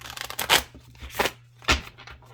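A small oracle card deck is shuffled by hand in three or four quick, crisp riffling bursts, close and fairly quiet, with short pauses between them.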